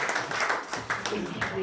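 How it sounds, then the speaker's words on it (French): Audience clapping for a comedian on stage, a short burst of steady applause with a voice talking over it. "Un applaudissement pour Florian."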